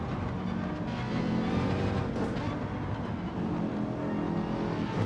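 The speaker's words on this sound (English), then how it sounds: "Listen to that 458," A Ferrari 458 GT3 race car in a racing video game at Bathurst drones steadily at high revs throughout, a continuous engine note with no pauses or talk over it.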